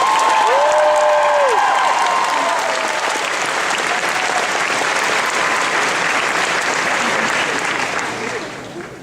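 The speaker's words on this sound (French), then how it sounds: "Une bonne main d'applaudissement pour nos Denmom." A convention masquerade audience applauds loudly and continuously, holding full volume for several seconds and then tapering off near the end, with a voice briefly audible at the start.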